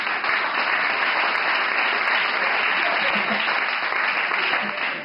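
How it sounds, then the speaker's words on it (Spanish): Sustained, dense applause from a club crowd at a rock band concert, loud and even across the whole stretch, with a faint high tone running steadily beneath it. "Un aplauso para él, por favor."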